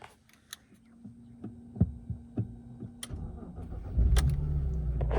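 A BMW 325i with a drive fault cranks and starts, settling into a low, steady running hum with faint clicks and knocks, rather quiet and close by.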